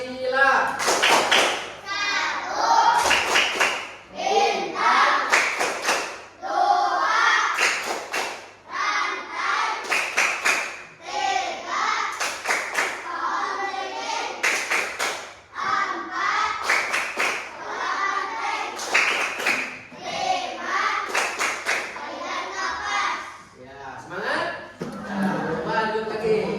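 A class of schoolchildren stands and performs the Tepuk Pancasila clapping chant, with rhythmic bursts of group hand claps and taps woven through their lively chanting voices, steady and fairly close throughout.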